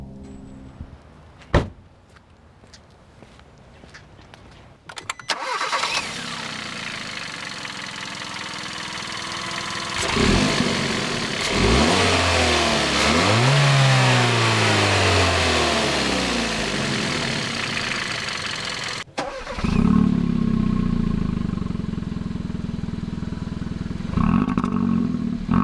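A Hyundai Elantra Sport's turbocharged 1.6-liter direct-injection four-cylinder gasoline engine cranks and fires up, then revs repeatedly with rising and falling sweeps before settling into a loud, steady idle, close up with no talking.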